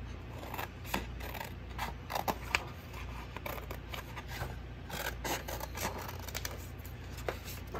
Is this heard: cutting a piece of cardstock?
yes